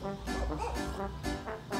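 Dogs bark in a rapid, overlapping burst of yips and bow-wows, close and fairly loud, with one bark following another almost without pause for about two seconds and no talking.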